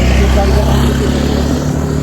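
A scooter or motorbike engine drones close by on a narrow bridge route, a steady mid-pitched hum that fades slightly as it passes, with a faint voice underneath.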